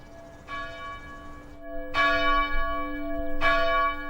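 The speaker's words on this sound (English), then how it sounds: "A bell." A bronze bell cast from tin and copper rings at a bell foundry, struck three times at roughly even intervals, each strike a bright clang with a long sustained hum, close and clear with no talking.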